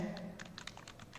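Typing a short HTML span tag on a computer keyboard, a quick run of soft, close key clicks, faint and brief.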